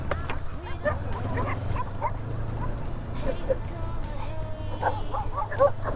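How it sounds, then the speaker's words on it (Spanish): Several dogs bark repeatedly along a rural path near Chan Chan, sharp yaps and whimpers close by over a constant motorbike engine rumble, with someone talking now and then. "Ya empezaron a ladrar."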